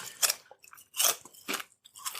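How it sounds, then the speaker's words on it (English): Kettle-style sea salt potato chips crunch between the teeth in four sharp, close bites, loud and crisp with short pauses between them. "Y'all heard that crunch?"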